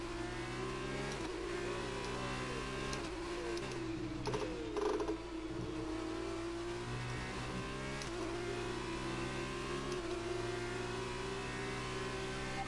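Formula 2 car engine in the F1 2019 racing game on the China circuit, revving loud and continuous with repeated gear shifts and rising and falling pitch as the car brakes and accelerates through corners.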